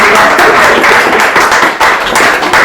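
An audience claps for Heather at an art exhibition opening at Clynfyw, a dense, steady burst of many hands close and loud throughout, with no speech.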